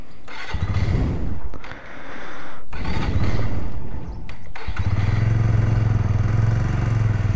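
A motorcycle engine cranks a few times in bursts, then catches and settles into a loud, steady idle nearby.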